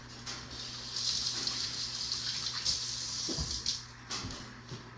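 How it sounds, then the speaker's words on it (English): Running tap water rinses a pair of hands at a kitchen sink while cooking marinara sauce, a steady broad hiss lasting the whole time with a few soft splashes and knocks. "I'm going to rinse my hands"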